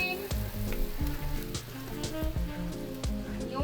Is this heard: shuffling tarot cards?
no